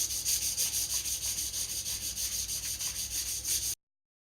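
Sanding scuffs a Mazda MX5 body panel before painting with rapid rhythmic back-and-forth rubbing strokes, close and steady, that stop abruptly near the end.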